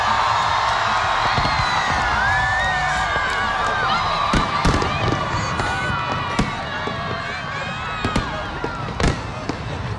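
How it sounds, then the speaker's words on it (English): A large crowd cheers and whoops while New Year fireworks burst over the St. Johns River in Jacksonville, with sharp pops and crackles scattered across a steady roar of voices. "listen to that crowd"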